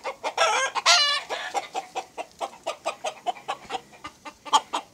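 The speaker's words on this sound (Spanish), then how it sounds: "Esas son gallinas ponedoras." Laying hens cluck in quick, repeated bursts, with one louder squawk near the start, close and lively, the steady rhythm of fowl chatter filling the clip without any talking.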